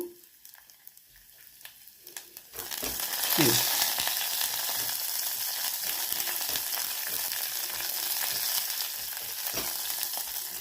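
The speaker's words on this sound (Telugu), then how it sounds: "అందులోని ఆవాలు, మినప్పప్పు, ఎండుమిరపకాయలు, తర్వాత చిన్న ఇంగువ ఇది వేసుకున్నానండి పోపు" Mustard seeds, urad dal, dried chillies and asafoetida hit hot oil in a pressure cooker, a quiet start giving way to a sudden loud, crackling sizzle that holds steady and close for the rest of the time.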